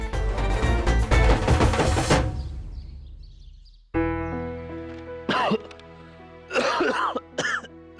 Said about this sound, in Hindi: थोड़ी खांसी हो गई है